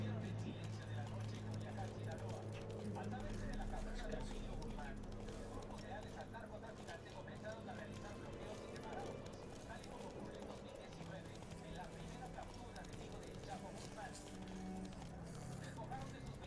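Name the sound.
horse galloping hooves, from video game The Witcher 3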